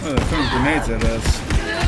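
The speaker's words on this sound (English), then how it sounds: "Oh, they're throwing grenades at us." Enemies lobbing grenades in the Borderlands 3 video game: several dull thumps and sharp bursts scattered under constant excited talk and game noise.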